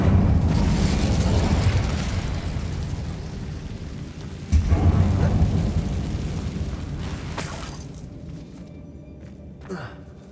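A fiery blast rumbles loudly through a mine in Hogwarts Legacy as the Incendio spell is cast, with a second roaring burst midway and a voice speaking over the game's ambient rumble.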